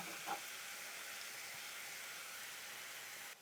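Sausage, peppers and onions sizzle steadily in a pan, a soft, even hiss with a faint clink near the start, continuing unbroken before cutting off at the end.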